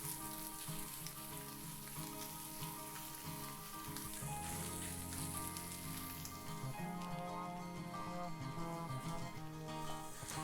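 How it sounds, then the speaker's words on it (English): Four sausage patties sizzling in a skillet, a steady dense crackle and hiss of frying fat that continues without pause, close and fairly loud with no talking. "I'm just cooking, it's just a sausage patty"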